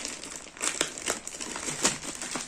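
Plastic packaging crinkles and rustles steadily in close, busy bursts while safety shoes are unboxed, with no speech.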